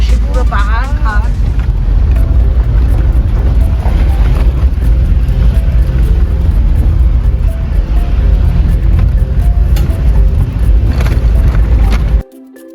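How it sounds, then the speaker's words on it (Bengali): A car driving slowly along a rocky, unpaved mountain road gives a continuous loud, low rumble with wind buffeting and occasional knocks from the rough surface, and a person talks over it before it cuts off near the end. "কাঁচা রাস্তা পাথুরে, তার মধ্যে দিয়ে আমরা আস্তে আস্তে যাচ্ছি।"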